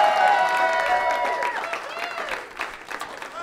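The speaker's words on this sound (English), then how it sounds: "Don't you dare stop clapping." Audience clapping and light cheering after a live music performance at an open music session, mixed with sustained musical tones early on, then thinning applause with voices underneath.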